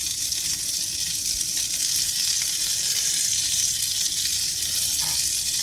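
Fish skin sizzles in a hot skillet, a loud, steady, hissing fry that holds evenly throughout with no voices.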